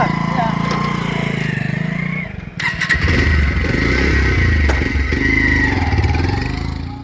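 A motorcycle engine rumbles close by, then starts up and revs steadily, with people talking faintly underneath.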